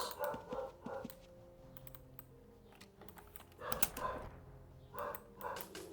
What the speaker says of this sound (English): If my dog is making some noises in the background, I apologize.